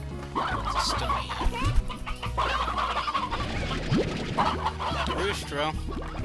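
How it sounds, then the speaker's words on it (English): Rooster and hens clucking in the video game Slime Rancher, a busy run of layered fowl clucks and calls over game music with a voice talking at times. "I do have a spare rooster."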